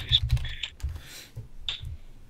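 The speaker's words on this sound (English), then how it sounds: "I'm typing it right now." Fingers type on a computer keyboard during a podcast recording, producing a close, uneven run of soft clicking keystrokes over about two seconds.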